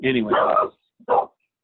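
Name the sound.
dog barking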